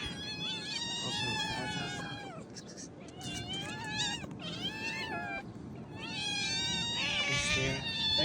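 Several hungry stray cats meow repeatedly in overlapping, plaintive cries, some drawn out into wails, with faint background noise beneath them.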